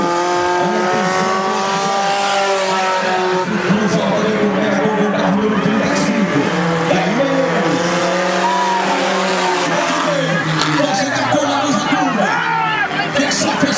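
Race cars of the Velocar Força Livre category roar around a track near São José in a loud, continuous engine drone with rising and falling pitch sweeps as cars pass, brief tire squeal mixed in, under excited commentary and faint crowd noise.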